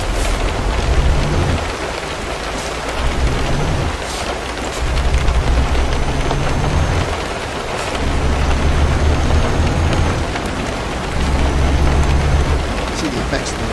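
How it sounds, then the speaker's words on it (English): Rain in the truck-driving game Euro Truck Simulator 2 makes a dense, constant hiss, while a low engine rumble swells and fades in repeating cycles underneath. "See the effects of the rain."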